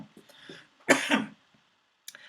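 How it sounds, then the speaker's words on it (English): A couple of short, rough coughs or throat-clearing sounds from a nearby person with a cold, with brief quiet gaps around them. "I have a cold, you'll have to excuse me coughing from time to time."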